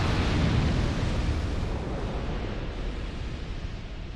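Big explosions boom in the video game Dark Souls as a loud, dense roar that swells at the start and then rumbles on evenly, with no voices present.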